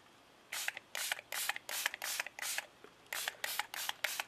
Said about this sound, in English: Spray from a decent height, because the higher it is, the wider the spray goes.